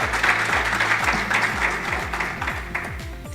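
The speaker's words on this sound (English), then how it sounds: "Maybe a round of applause for her as she comes down" Audience applause at a renewable energy summit, a steady wash of many hands clapping close and loud, with low tonal sweeps running underneath throughout.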